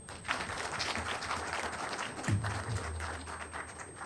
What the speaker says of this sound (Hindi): एक बार सारे टीचर्स के लिए तालियां।